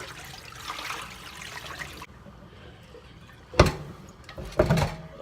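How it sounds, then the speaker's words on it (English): Cold tap water runs steadily over packaged beef, with a few louder splashes and bursts near the end as the meat is rinsed and drained, no talk. "Wash it off with some cold water"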